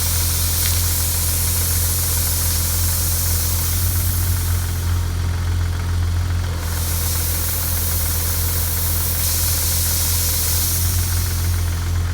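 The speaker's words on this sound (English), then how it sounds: "It sounded just about like a regular air compressor." A homemade onboard air compressor runs with a steady mechanical chugging hum and a hissing, spraying rush of air on top, swelling and easing slightly; no voices.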